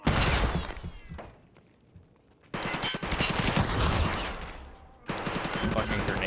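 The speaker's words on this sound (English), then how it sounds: "It's a grenade launcher." Rapid gunfire in a tactical shooter game, a dense burst of repeated shots, a quieter lull, then two more loud sustained volleys close by, with faint talk underneath.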